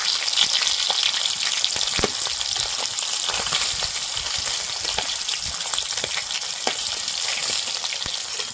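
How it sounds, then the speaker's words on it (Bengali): Fish frying in hot oil for a Bengali mung dal recipe gives a continuous loud sizzle with crackling pops throughout, and no voices. "একদম ভালো করে লাল লাল করে ভেজে নিচ্ছি।"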